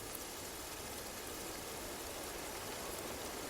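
Steady rain falls over a green springtime forest, a dense, even hiss of drops on leaves and ground with no pauses or other sounds.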